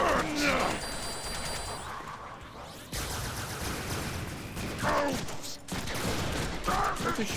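Rapid bursts of gunfire from a Deadpool shooter game, loud and repeated across the stretch, with crashing impacts and groans mixed into a busy, dense soundscape.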